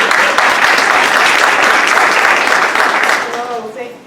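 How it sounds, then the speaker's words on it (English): Loud, dense applause from an audience at a talk on financial strategies for young people, sustained for several seconds and then fading out at the end. "Let's give her a round of applause."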